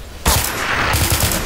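Rapid gunfire in a Garry's Mod sandbox game, a loud sustained burst of closely spaced shots that starts abruptly and keeps going.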